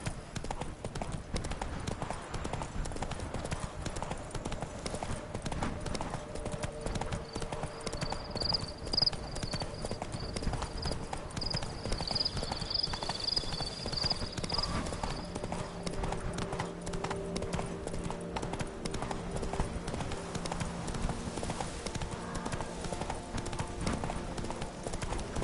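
Horse Roach gallops through The Witcher 3 open world with steady, rhythmic clip-clop hoofbeats throughout, under game music and ambient background sound.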